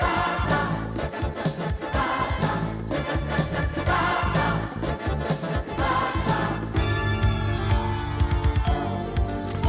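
Recorded electronic drum beat: steady pounding kick pattern with quick rolled fills and crisp hits, dense and continuous, playing alone.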